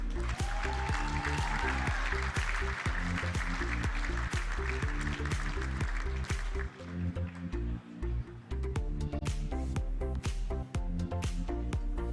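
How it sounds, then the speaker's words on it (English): Audience applause at an awards night for a football club's best and fairest, steady and dense throughout as one person walks to the stage, with loud music-like tonal bands running beneath the clapping. "please a warm round of applause for Janet Dooley"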